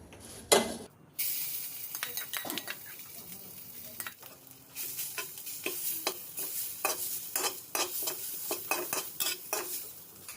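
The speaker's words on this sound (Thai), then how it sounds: "เอาเครื่อง ที่ตำไว้นะคะ นี่นะคะ ที่ตำไว้ลงไปผัดนะคะ" Pounded chili paste sizzles in a pan with a little oil, for a canned fish chili dip, while a utensil scrapes and stirs in quick repeated strokes, close and clear.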